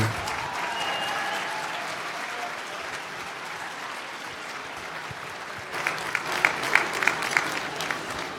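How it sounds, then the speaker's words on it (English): Warm audience applause for the Children's Chorus of Washington at an anniversary gala dinner, a soft steady patter of many hands that swells with sharper, nearer claps toward the end. "let's give a warm round of applause for the Children's Chorus of Washington"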